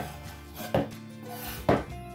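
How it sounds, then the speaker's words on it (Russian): A kitchen knife finely chops fresh dill on a cutting board, giving two distinct, sharp chops about a second apart, close and clear, with quiet in between. "Мелко нарезаю зелень. У меня укроп"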